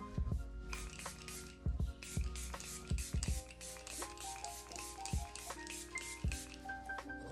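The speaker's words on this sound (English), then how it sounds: "Misting spray. Shake it well." Rhythmic rattling and rubbing of a small setting spray bottle being shaken, a series of quick thumps and scrapes close by, with no talking.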